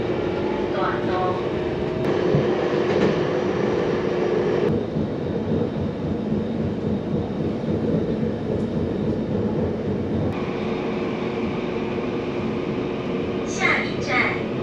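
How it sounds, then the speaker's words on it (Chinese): Taiwan Railway train idling at Longjing station on the coastal line while waiting for an oncoming train to pass, a steady loud rumble and hum throughout, with brief squeals and rattles near the end. "列车在这边暂时停留，等候会车。"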